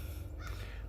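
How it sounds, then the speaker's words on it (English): On an autumn hike, a single crow caws faintly in the distance over a low steady background rumble. "You can hear the birds in the background and different things."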